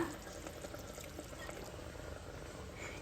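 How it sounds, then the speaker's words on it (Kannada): Water from a rinsed mixer jar is poured into rice in a cooking pot, a faint, soft trickling splash close by, quiet and brief with no talking. "ಇದಕ್ಕೆ ಮಿಕ್ಸಿ ತೊಳೆದು ನೀರೇ ಹಾಕ್ತಾ ಇದ್ದೀನಿ"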